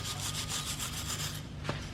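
Metal scraper rubbing rust and tree-sap residue off a 34-year-old boat engine, a steady close rasping in rhythmic repeated strokes, with a sharper scrape near the end.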